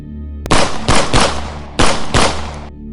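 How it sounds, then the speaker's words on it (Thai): Loud shotgun and cap gun fire rings out in two quick clusters, several sharp blasts each trailing into a ringing echo. "เสียงปืนลูกซอง และปืนแก๊ปดังกังวานขึ้น"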